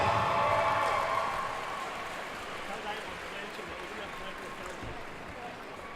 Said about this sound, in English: can we have a round of applause for the choir, please?